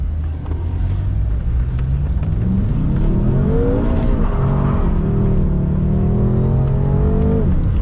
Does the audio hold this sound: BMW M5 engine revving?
yes